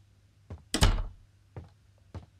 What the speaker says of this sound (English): You forgot to close the fucking car door.